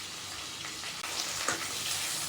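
Onion, ginger, tomato and coriander lightly frying in a pan for masala, a close, steady sizzle with small crackles and a brief stir, no voices.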